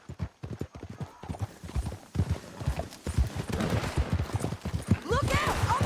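Horse hooves gallop in Red Dead Redemption 2 as riders head down a canyon, a quick rhythmic clatter of clip-clops that grows louder and denser with gunfire and voices mixed in.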